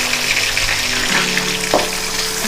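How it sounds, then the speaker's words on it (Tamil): Chopped onions and curry leaves fry in oil for a restaurant-style chicken gravy, giving a steady, loud, close sizzle that holds throughout, with a faint stirring scrape partway through and no speech. "வெங்காயம் நல்லா ப்ரௌனாக இருக்கிற வரைக்கும் வதக்கிக்கோங்க"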